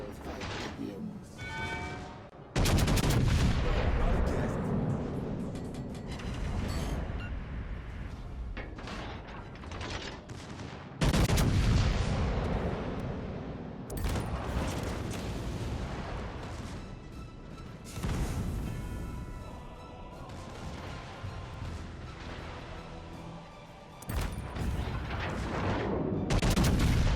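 Heavy naval guns firing in the World of Warships Legends game, booming salvos at irregular intervals with rumbling tails and mechanical clanks, loud and close, with a voice calling out between shots.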